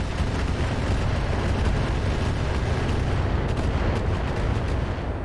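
In the RogueTech video game, a Trebuchet mech fires its weapons in a dense, continuous barrage of booming, crackling impacts that stays loud and steady the whole time.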